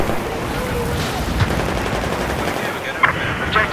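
Rapid automatic gunfire in the shooter Battlefield 4 on the Gulf of Oman map in Conquest mode, a continuous rattle of overlapping shots with a couple of sharper cracks near the end.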